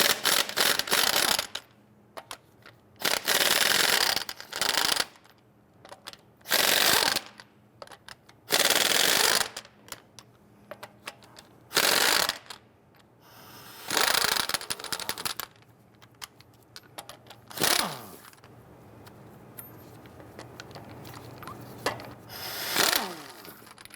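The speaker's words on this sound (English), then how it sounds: "Using a 22mm socket, loosen and remove your lug nuts." A power tool or ratchet loosens and removes the 22mm lug nuts from a rear wheel of a 2011-2021 Jeep Grand Cherokee, giving repeated loud rattling bursts of a second or two, separated by short quiet gaps.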